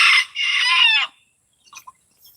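A rooster crows loudly and close by in one strong, harmonic call about a second long, followed by a few faint, brief clucks from the backyard flock.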